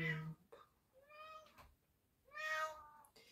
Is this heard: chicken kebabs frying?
no